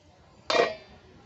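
A cooking pan lid set down with one sharp metallic clink and a brief ringing decay, close and alone in a quiet kitchen.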